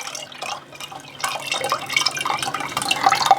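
Water draining from salted cabbage being prepared for kimchi in a home kitchen, a steady close trickle and dripping that swells into a fuller, splashier run partway through, with no talking.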